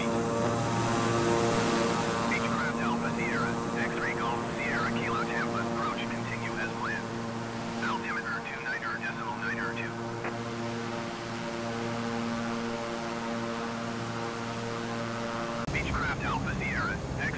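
Steady propeller engine drone of a Beechcraft plane in a flight simulator game, a continuous loud hum with strong low harmonics throughout, while radio chatter and talk run over it.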